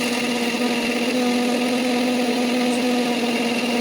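A mixer grinder runs on cooled spices, making a loud, steady motor whine with a constant hum and no pauses or voices.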